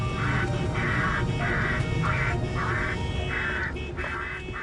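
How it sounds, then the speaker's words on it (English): A flock of rooks calling at Gatwick airfield, a series of loud harsh repeated caws in steady succession over constant low background rumble. "having trouble keeping a flock of rooks off the airfield"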